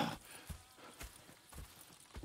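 Horses walking in Red Dead Redemption 2, a soft, even run of hoof clip-clops on the ground, quiet and close, with no voices.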